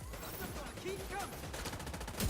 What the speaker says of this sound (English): Stop shooting me in the back, whoever's doing that.